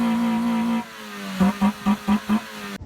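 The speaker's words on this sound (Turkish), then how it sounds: "Egzoz sesi çok güzel. Çok tok." A Kuba Race 125 motorcycle engine idles with a deep exhaust note, then five sharp, evenly spaced throttle blips rev it up, loud and close.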